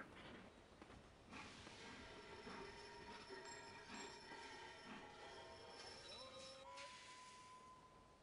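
Trains rolling along rails in Sid Meier's Railroads, a steady rumbling wash with metallic wheel squeal and rising tonal whines, continuous and fairly loud throughout.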